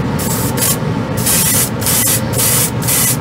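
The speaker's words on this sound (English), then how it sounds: "it sprays the Vallejo all right" A Harder & Steenbeck Colani airbrush sprays Vallejo paint, its airy hiss coming in close, loud bursts that stop and start several times with short pauses between.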